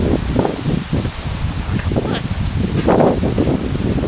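Strong wind gusts outdoors, a broad steady rushing roar with buffeting against the microphone and some rustling, continuous through the short stretch without talk.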